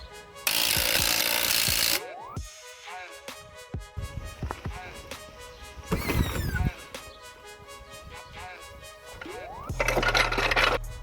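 Impact wrench rattling lug nuts tight on a car's new rims during a wheel change on a Calais, loud bursty hammering at the start and end with metallic clinks and tool handling in between.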